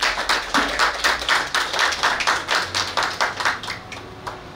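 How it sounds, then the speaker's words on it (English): Applause from the audience at a craft enhancement project launch, a steady run of sharp, close handclaps that continues at a fairly even density before thinning toward the end. "Ladies and gentlemen, round of applause for all our participants."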